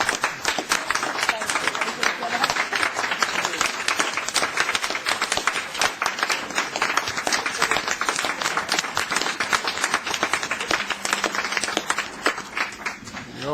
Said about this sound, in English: I think we all owe him a great a round of applause and a thanks